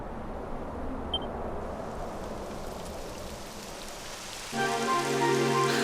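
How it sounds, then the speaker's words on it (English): Steady hiss of rain falling heavily and evenly in the video game Dragon Quest XI, with soft tonal music swelling in near the end. "It would have to go and start raining, wouldn't it?"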